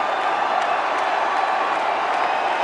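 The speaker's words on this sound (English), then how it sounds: "The crowd getting happy." A dense crowd at a cricket test match in Indore cheers and applauds steadily. The roar of many distant voices is continuous and even throughout.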